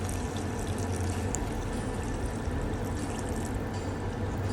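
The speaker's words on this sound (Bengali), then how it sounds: "এখন আমি পরিমাণ মতো পানি ঢেলে দিব।" Water is poured into a pot of well-browned duck meat, a steady, close, continuous rushing splash that holds an even level from start to finish, with no talk over it.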